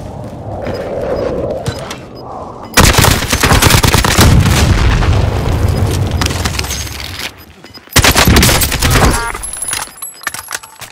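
Gunfire in a battle royale shooter match, starting quiet and then erupting into loud, dense volleys of rapid shots and heavy blasts that pause briefly and then resume in a second intense burst, with no talk.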